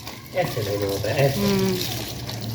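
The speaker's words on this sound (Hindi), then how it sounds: "मैं बड़े अच्छे तरीके से पालक धो लेता हूँ।" Tap water runs steadily into a sink while spinach is rinsed, a continuous splashing wash under a man's nearby speech.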